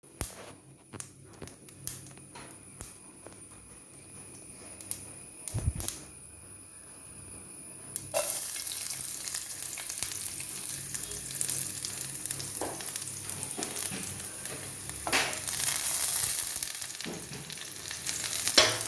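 Chopped onion hits hot oil in a clay pot and erupts into a loud, steady sizzle about halfway through, after a quieter stretch of faint crackling from mustard seeds popping, with occasional stirring scrapes and no voices.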